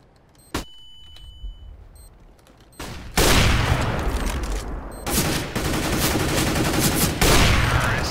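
Bursts of rapid gunfire in Counter-Strike: Global Offensive crackle loudly and continuously after a quiet start with a single sharp shot, dense and close like heavy game combat.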